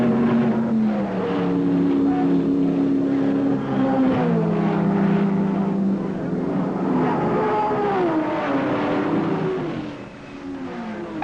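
1961 Triumph TR race cars at the Le Mans 24 Hours: loud, continuous engine drone with rising and falling pitch as cars pass and shift, heard without a break and fading slightly near the end.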